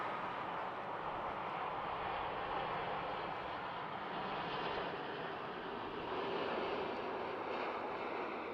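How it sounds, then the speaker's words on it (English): An Etihad Airbus A350-1000 lands at Schiphol on runway 18R in winter, a steady, fairly distant jet engine roar that swells slightly toward the end, with no voices. "Just in time for that Etihad A350 1000."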